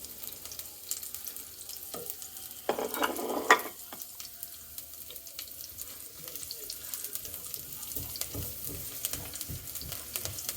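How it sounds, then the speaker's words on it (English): Green chilies fry in hot oil in a pan, a low, steady sizzle with a brief louder burst of spitting near the start, heard up close without speech. "As you see, the chilies are slightly fried."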